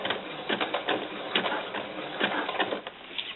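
A sewing machine stitches a doll camisole in quick, rhythmic bursts of needle clatter, close and fairly loud, with brief pauses between runs.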